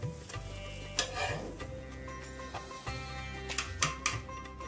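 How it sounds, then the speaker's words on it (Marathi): A mixed-flour dhirde pancake fries in a little oil on a pan over medium heat, giving a steady close sizzle broken by soft spatula scrapes and light clicks, with no talking. "मीडियम गॅसवर आपल्याला छान भाजून घ्यायचं आहे खरपूस दोन्ही साईडनी"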